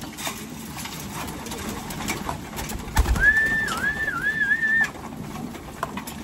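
Racing pigeons cooing amid steady outdoor background noise, with a clear warbling call rising out of it for about two seconds midway.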